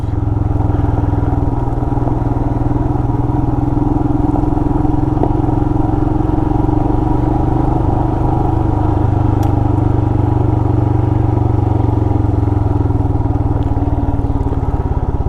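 A Royal Enfield Himalayan motorcycle rides off road in second gear on a gravel forest trail, its engine putting steadily and loudly the whole time, with a continuous low drone and occasional faint rattles.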